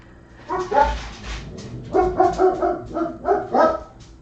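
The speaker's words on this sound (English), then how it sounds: "My dogs bark a lot." Dogs bark in two loud bursts indoors, a pair of barks followed by a rapid run of five or six more, close by with no talking.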